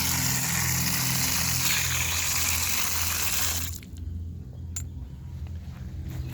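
Water gushing from a working pipe in a railway embankment park, a loud, steady rushing stream that cuts off abruptly partway through, leaving quieter outdoor background with a few faint clicks.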